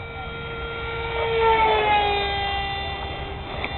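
A model Eurofighter jet flies past overhead with a high whining engine tone that rises and sweeps down in pitch as it passes, swelling louder in the middle, then fading.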